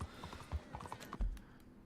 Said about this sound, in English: I accidentally dismounted my horse,